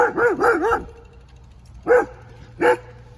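A dog barks in a quick burst of three yelps, then two more single barks follow after pauses, close and fairly loud, in a park.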